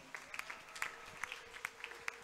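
A church congregation applauding during a Sunday worship service: scattered, fairly faint claps at an uneven rhythm, heard from a distance in a reverberant hall.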